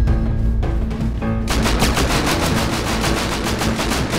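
Rapid automatic gunfire in the survival video game Rust, a dense, loud burst of repeated shots that starts sparse and becomes continuous and rhythmic after the first second and a half, with no talking over it.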